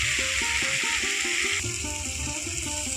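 Spice paste for a Bengali jackfruit curry frying in a pan on a gas stove, a steady close sizzle with light stirring and scraping throughout.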